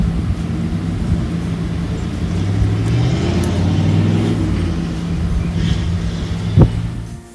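An M715 Kaiser truck drives along a road, its engine giving a loud, close, steady drone that swells slightly midway and ends with a brief knock.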